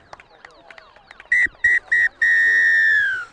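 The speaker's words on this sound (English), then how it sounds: "referee Cleveland has blown the whistle to end this game" A referee blows full time at a 2017 Illawarra district rugby league match at Gibson Park, Thirroul Butchers against Wests Devils: three short sharp blasts, then one long loud blast over faint crowd noise.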